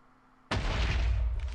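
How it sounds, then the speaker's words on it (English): A single explosion from an explosive bow arrow in Minecraft bursts in loud and broad after a quiet start, then keeps roaring at full level for about a second with no speech. "So if you let go, it creates an explosion."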